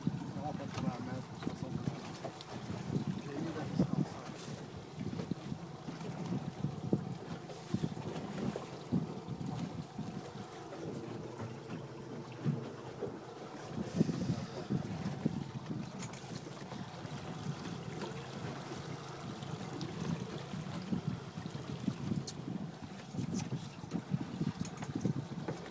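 A fishing boat trolling for bonito moves across open water with wind buffeting the microphone and waves sloshing, while people talk intermittently in French in the background.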